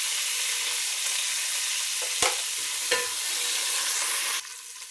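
Tomatoes go into golden frying onions, which hiss in a constant loud sizzle, broken by a couple of sharp spoon scrapes as the pan is stirred.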